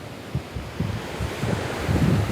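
Ocean waves wash in at high tide on Versova beach in Mumbai, a soft churning surge with gusty wind buffeting the microphone, heard briefly and without voices.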